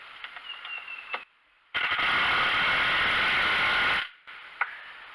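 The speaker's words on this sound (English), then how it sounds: "now we've got the final screw going up to make our first horizontal run" Power driver sinking a screw into a lean-to post: a short whir, a pause, then a loud, steady motor drone lasting about two seconds, close by and alone, with small clicks around it.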